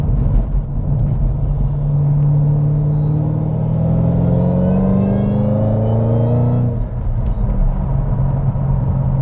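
A Ford Mustang Super Snake engine rumbles loudly and close, its deep tone rising and falling through several revs before easing off near the end.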